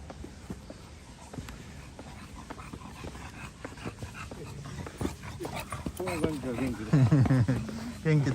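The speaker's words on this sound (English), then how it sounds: "This dog sounds a bit tired, but it's doing its best." A dog on a spring walk through Tokyo's Todoroki Ravine pants and whimpers close by, growing louder toward the end, with speech in the background.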